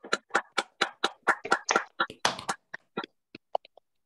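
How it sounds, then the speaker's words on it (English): A small online audience applauds a speaker after a mathematics talk, scattered claps that begin fairly dense and thin out into a few sparse, separate claps at the end. "give our speaker a round of applause"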